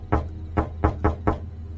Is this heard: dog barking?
no